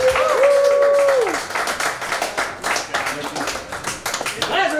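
A comedy club audience applauds and cheers in a sustained, loud wash of clapping, with a performer's voice and whoops over it.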